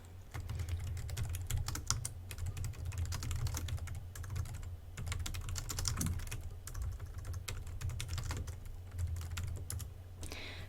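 Someone types a title on a computer keyboard, a continuous quiet patter of key clicks at a steady pace with a brief pause near the end, no voices.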